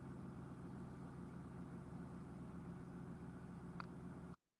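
A super noisy truck idling at a rest area, a steady low engine rumble holding constant with a brief faint chirp near the end before it cuts off abruptly.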